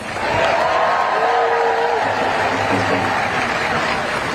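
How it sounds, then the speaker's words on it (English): A crowd at a protest rally claps in a steady wash of applause, with a few voices and light laughter mixed in, fading slightly toward the end. "Give yourselves a round of applause."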